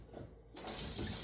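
Water runs from a tap into a soup pot, a faint steady splashing stream that starts abruptly partway through.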